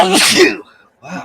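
A man lets out one sharp, loud sneeze close by, followed by a brief pause and then quick spoken exclamations.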